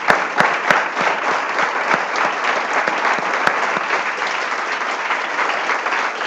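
A church congregation applauds the Lord during a Spanish-language sermon, a steady wash of many hands clapping for about six seconds, loud and sustained with a few sharper individual claps standing out.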